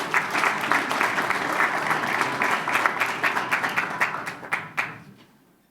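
Audience applauding the Bel Air High School fashion design team at a school district board meeting: steady dense clapping that thins into scattered individual claps and fades out near the end.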